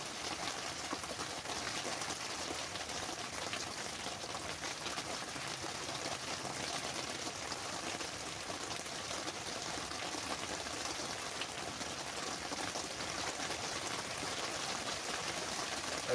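Rain falls steadily on a hot tent with a wood stove, a continuous dense patter and hiss that stays even and unbroken throughout, with no voices.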